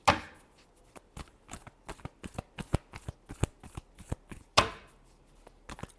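Tarot cards being shuffled by hand, a close, steady run of crisp riffling slaps and flicks with two louder snaps near the start and later, no voices.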